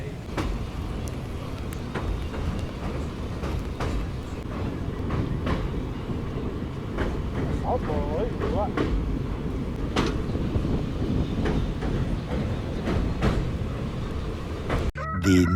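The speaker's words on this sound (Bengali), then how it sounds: "দেখো ওই লাইন থেকে একটা ট্রেনও আসছে, ওটা হচ্ছে মেন লাইনে" The 18011 Chakradharpur Express runs along the rails, a steady rolling rumble with regular clacks from the track that continues for a long stretch, with light background sounds mixed in.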